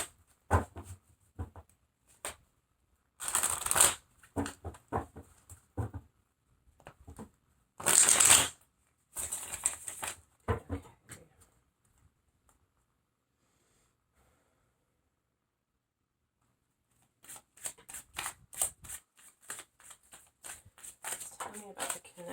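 Tarot cards are shuffled in repeated bursts of crisp riffling and flicking, close and fairly quiet, with a long silent gap before a final rapid run of shuffles.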